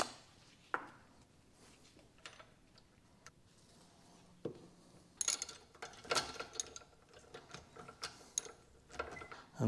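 Ratchet clicks tighten a bolt on a BMW E46 flex disc, coming in short irregular bursts of sharp ticks and metallic clatter, close by and fairly quiet, with no talking.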